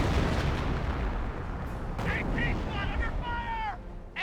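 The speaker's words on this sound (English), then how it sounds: "Sending more mortar on top of the M1AT gun" Dense mortar and artillery barrage in Company of Heroes 1, with continuous rumbling booms and blasts layered over one another at close range, plus short radio-like game voice callouts toward the end.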